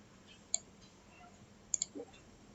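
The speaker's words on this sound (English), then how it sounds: "Let's click on finish." Computer mouse clicks from a desktop setup: a single crisp click, then a quick double click about a second later, with a soft low thump just after. The clicks are faint and close against quiet room hiss.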